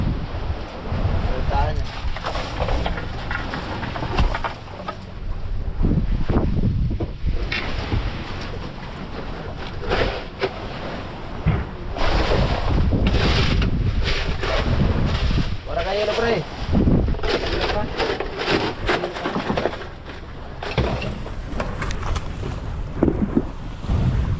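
Constant rumbling motor and rushing wind buffeting the microphone on a boat on the Pacific, with water splashing against the hull and people talking now and then over the noise.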